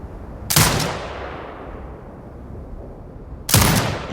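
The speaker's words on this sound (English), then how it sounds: "Exit binocular mode and command the turret to fire." Two loud automated turret shots in Sniper Ghost Warrior Contracts 2, about three seconds apart, each a sharp blast with a long decaying tail.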